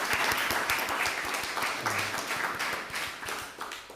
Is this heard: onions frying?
no